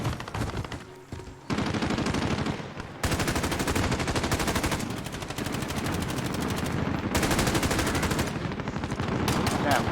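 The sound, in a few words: gunfire in a video game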